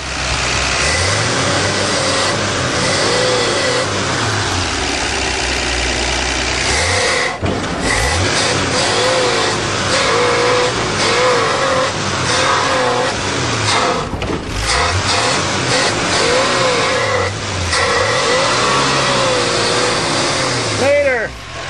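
A 1977 Dodge van engine runs loud and close, revving up and down repeatedly with a rough, mechanical drone throughout, with a voice speaking over it at times.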